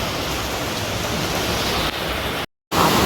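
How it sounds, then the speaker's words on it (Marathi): Heavy monsoon rain falls in May as a loud, dense, steady roar of water, broken by a short cut to silence before it resumes. "बाप रे किती पाऊस येतोय बघा खूप वाढलाय पाऊस"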